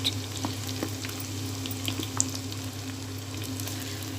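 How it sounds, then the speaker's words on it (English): Fish masala fries in oil in a pan with a continuous, close crackling sizzle, scattered small pops and spatters over a steady low hum, no voices. "This I am going to fry till the oil is coming out of it."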